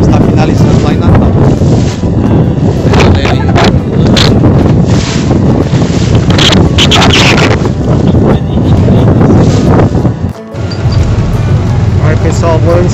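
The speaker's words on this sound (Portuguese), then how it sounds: "E foi só pegar a lancha e seguir para mais um destino." Motorboat ride on the sea off Rio do Fogo near Natal, Brazil: strong, continuous wind buffeting and water rush dominate throughout, with a steady engine drone beneath and a brief dip near the end.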